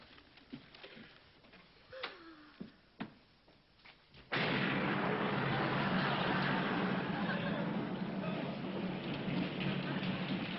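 Heavy rain begins suddenly as a loud, steady roar that holds without letup, after a stretch of a few knocks and quiet sounds.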